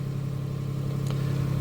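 Range Rover Sport engine with a stuck throttle body, running close by as a steady, even low hum with a faint brief whoosh partway through, no clear rise in revs.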